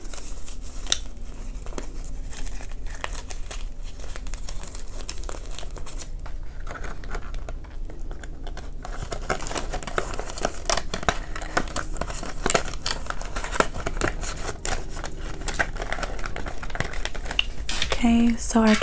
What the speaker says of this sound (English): our cash envelopes are stuffed